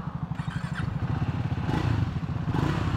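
Triumph Scrambler 400 X or Speed 400 motorcycle pulling away, its single-cylinder engine thumping in a rapid, steady rhythm that builds slightly, close and loud with no talk.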